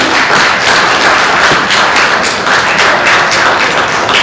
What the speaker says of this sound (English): If we could give a big round of applause for all our wonderful panel.